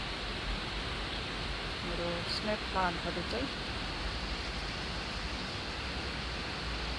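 Steady rain falls on snake plants on a rainy day, a soft, even hiss running the whole time while a person speaks briefly over it.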